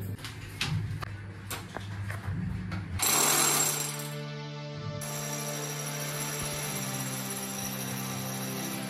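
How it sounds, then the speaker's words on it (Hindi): Power drilling inside a residential building during gas pipeline installation, heard as loud sustained mechanical whining and grinding with a steady high tone, starting after a stretch of lower household noise. "वही लोग ड्रिल कर रहे हैं पूरी बिल्डिंग में लग रहे हैं"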